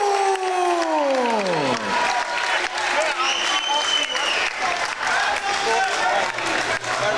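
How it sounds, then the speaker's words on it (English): A crowd at a boxing-style fight night breaks into sustained applause and cheering after a split decision, loud and continuous, as an amplified announcer's voice with a descending tone fades out at the start. "a big round of applause, please, to his opponent, Jack Beynon."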